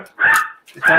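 A small dog barks in two loud, sharp bursts close by, with a short gap between them.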